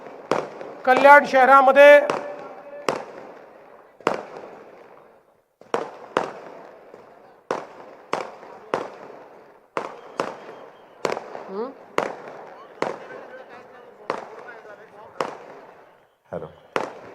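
Firecrackers burst in Kalyan city as sharp, loud bangs at a steady pace of about one per second, with echoing tails. Someone speaks briefly over the first few blasts.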